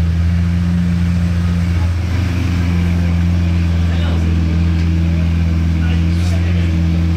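A Bugatti Veyron engine hums steadily nearby at a supercar rally, a low droning tone, faint voices talking in the background.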